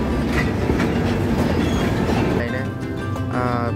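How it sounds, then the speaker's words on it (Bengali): The 12988 Ajmer Sealdah Express runs on rails past Chandanpur station over newly laid sleepers, making a loud, steady rumble and wheel clatter from inside the train that eases slightly toward the end. "আমাদের ট্রেন এখন ক্রস করছে চন্দনপুর স্টেশন"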